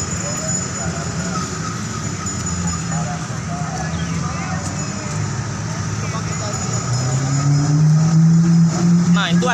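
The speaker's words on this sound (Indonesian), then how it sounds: "Nah ini jalan agak ramai pemirsa, kita nyebrang." Busy morning road traffic on a Bandung street near Gedung Sate, with a steady roadway rumble and one vehicle engine growing louder and closer near the end, with faint voices in the background.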